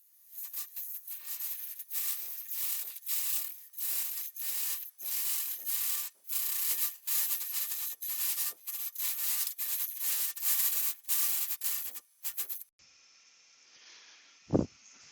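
Square bar hollowing tool cutting into a wood goblet spinning on a lathe, a loud rough rasping cut in repeated bursts with short pauses, then a quiet whirring spin-down near the end.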